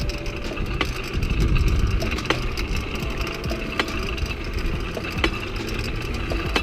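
A small motorized bike engine idles close by, a steady putter with regular sharp ticks and an uneven rattling undertone.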